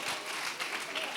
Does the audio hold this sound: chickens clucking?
no